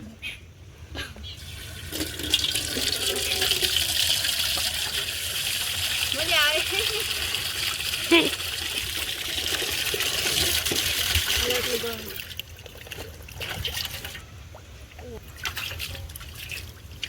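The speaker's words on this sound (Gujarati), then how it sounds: "આવી રીતે છે ને પાણી ભરવું પડે." Water filled from a tap in a sunny village, a steady splashing stream running under frequent close talking, with a brief quieter gap near the end.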